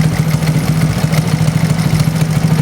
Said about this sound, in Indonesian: Oke sobat mesin, kita nyalakan dulu ya motornya ya